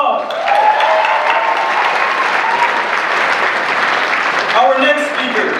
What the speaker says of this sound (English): let's give Mayor Pete another round of applause.